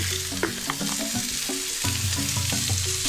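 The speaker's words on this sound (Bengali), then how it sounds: "এবার আমি ভালোভাবে সবজিগুলো আবার একটু ফ্রাই করছি" Mixed vegetables frying and being stirred in a pan for curd rice, a steady sizzle broken by repeated scraping strokes of a spatula, close and loud, with no talk.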